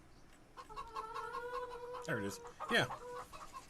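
Farm chickens in Farming Simulator 25 give a drawn-out cackle followed by two sharp squawking clucks, close and clear, while someone speaks briefly over them.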